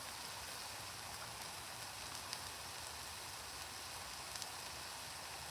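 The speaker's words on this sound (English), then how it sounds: "It's been like drizzle all day." Light drizzle falling in woodland, a soft steady patter of fine raindrops on leaves and ground with a few slightly louder drops, faint and continuous throughout with no voices.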